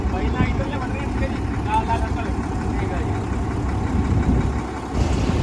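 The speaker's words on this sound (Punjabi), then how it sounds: "ਉਹ ਆਪਣਾ ਟਰੈਕਟਰ ਵੀ ਆ ਗਿਆ ਹੈ ਜੀ" Tractor engine arriving at a wheat farm at harvest, a steady mid-low idling rumble heard continuously at moderate distance, with people talking over it.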